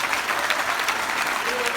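Steady applause from a crowd, dense continuous clapping that holds at an even loudness throughout.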